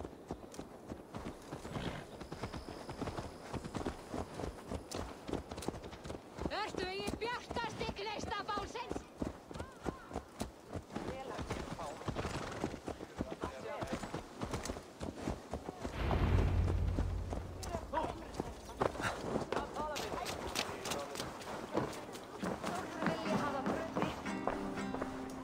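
Horse hooves clip-clop in the Assassin's Creed Valhalla video game, a steady rhythmic trot running under almost continuous character dialogue and game sounds.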